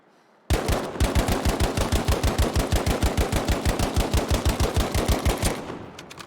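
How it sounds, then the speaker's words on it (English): Video game gunfire: one long, steady stream of about thirty rapid, evenly spaced shots, loud and close, each with a sharp crack and a low thump, ending in a brief fading tail. "So if I try and tap fire,"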